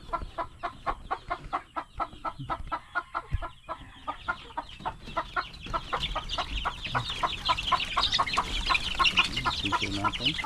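A flock of young chicks gives rapid, high clucking and peeping calls that carry on steadily without a break, growing denser and busier toward the end; close by and alone, with no talk over them.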